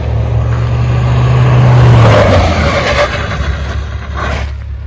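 A Mahindra Thar Roxx SUV brakes hard from 80 km/h, a loud close roar of engine and tyre noise with a low descending drone as it slows, then road rumble trailing off, no talk.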